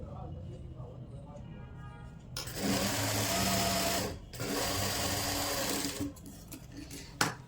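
A sewing machine runs in steady bursts as it stitches the hem of a velvet pajama, whirring loudly for several seconds with a short pause between runs and quieter handling sounds before and after.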